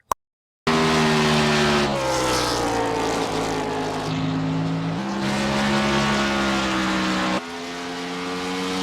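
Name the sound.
race car wrecking at Bristol in iRacing video game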